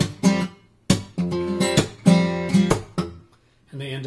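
Acoustic guitar plays the jazzy fourth verse of a song, strummed chords struck in bold rhythmic bursts with brief gaps, close and full-bodied with no talking.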